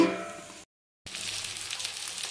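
Eggplant curry frying in a covered pan, a close steady sizzle that cuts out briefly and returns as the lid is lifted and the pieces are stirred.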